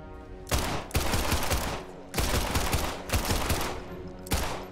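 Bursts of rapid automatic gunfire in a video game come in several sustained volleys separated by short gaps, dense and loud, with no talk over them.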